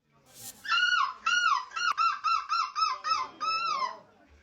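A man imitating a seagull screech, a series of about eight loud, harsh, honking squawks in a rhythmic burst, close and clear with no other sound beneath.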